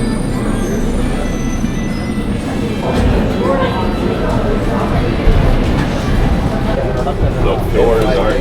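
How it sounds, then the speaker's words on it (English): An airport gate train in Australia rumbles into a station with a steady roar, faint wheel squeals and rattling, while people talk nearby over the noise. "A train is arriving."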